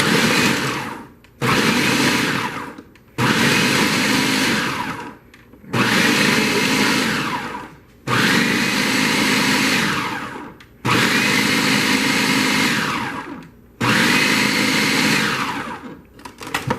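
Food processor pulsing green seasoning ingredients, loud motor bursts repeated in about seven on-off pulses of roughly one to two seconds each, with brief gaps between, no talk.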